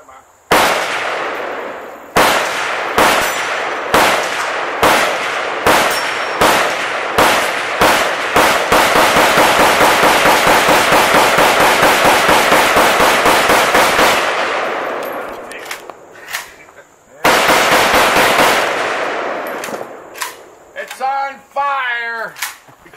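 Rapid gunfire from a Grison MC14T .380 Auto semi-automatic pistol, a Beretta clone: a long string of loud, sharp close-range shots fired in quick succession, a brief pause, then a few more shots, with some talk near the end.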